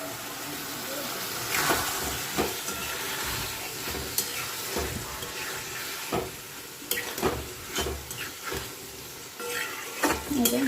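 A spiced potato and vegetable curry is stirred in a pan, with a steady sizzle and bubbling, and scraping strokes of the spoon against the metal recurring irregularly throughout.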